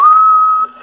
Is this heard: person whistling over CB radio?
yes